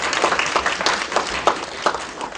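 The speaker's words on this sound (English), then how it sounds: "let's just give another round of applause for all of our candidates" Audience applause for candidates at a county candidates forum at a graduate center: a continuous patter of many hands clapping, moderately loud and fairly close, with no talk over it.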